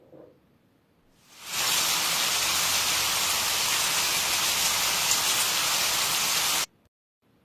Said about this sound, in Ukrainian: Послухайте, як іде дощик.